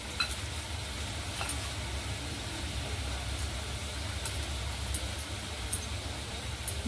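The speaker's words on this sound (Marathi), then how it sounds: "थोडीच अगोदर पहिल्यांदा थोडी टाकायची, एकदम सगळी टाकली का ती एकमेकाला चिटकते भजी." Cabbage bhaji frying in hot oil give off a steady, close sizzle and crackle that continues evenly throughout, with faint occasional pops and no talking.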